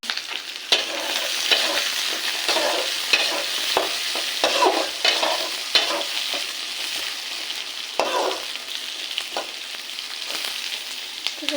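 Green chillies and long-cut potato strips frying in a pan for a small-fish chorchori, a steady close sizzle broken by repeated scrapes and stirs of the spatula, with no voices.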